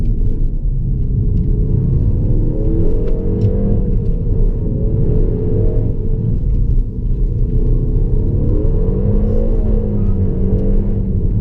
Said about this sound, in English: So you had a bit of inside wheel spin just then.